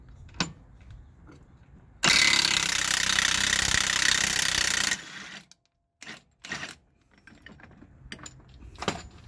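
A Milwaukee power impact tool hammers loose a shock absorber bolt on a semi truck, one loud continuous rattling burst of about three seconds, followed by a few short clanks and tool handling noises.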